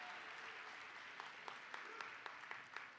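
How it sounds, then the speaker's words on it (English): Audience applause at a university commencement ceremony, honoring the director of a combined choir: a steady wash of clapping from a large crowd with a few sharper individual claps standing out, fairly distant and even throughout. "Would you give him another round of applause for directing this combined choir?"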